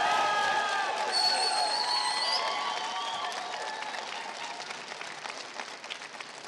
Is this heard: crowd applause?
yes